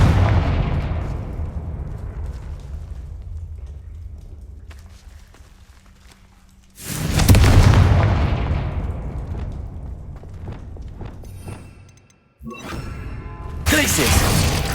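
Confringo blasting spells in Hogwarts Legacy explode in loud booming blasts, one at the start and others midway and at the end, each with a shattering crack and decaying rumble.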